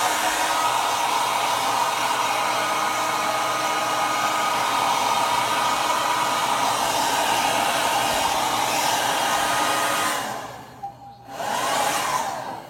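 A hair dryer blows steadily and loudly for about ten seconds to dry freshly brushed chalk paint, then is briefly switched off and started again near the end.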